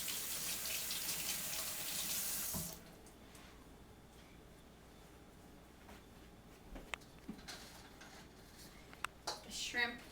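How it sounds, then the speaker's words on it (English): Tap water runs steadily as hands are washed under it, a loud continuous splashing for a few seconds before it cuts off, followed by quieter kitchen clatter and small knocks. "I'm going to wash my hands"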